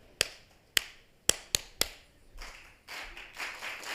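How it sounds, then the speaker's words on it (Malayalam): Students clapping hands in a classroom, five sharp, separate claps with uneven spacing, followed by a softer, washier stretch of scattered noise. "ഇനി താളത്തിലൊന്ന് കൈയടിക്കണം."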